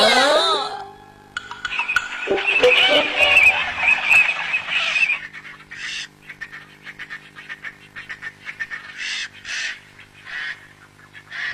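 Birds calling outdoors, a burst of loud squawks and honks early on, then scattered shorter calls, fairly close with a low hum beneath.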